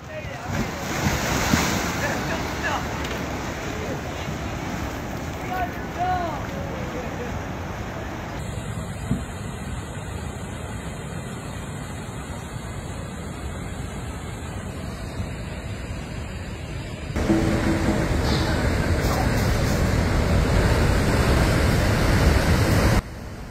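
Stormy high surf pounds the California coast near the San Francisco Bay Area, with a continuous roar of breaking waves mixed with heavy wind buffeting the microphone, loud and steady throughout.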